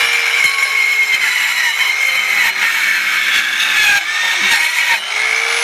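A Bauer power tool runs loud and close while cutting through material, a steady high whining buzz with slight dips and strains in pitch as it bites in.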